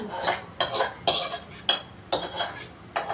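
Dalia and lentils are stirred in a 36-year-old pressure cooker, a spoon scraping the metal in rhythmic strokes about twice a second with soft clinks, close and clear, with no talk.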